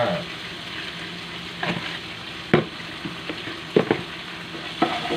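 Ingredients for a pork curry with five-layer pork sizzle and get stirred in a pan, a steady frying hiss broken by several sharp scraping and clattering stirs of the utensil against the pan.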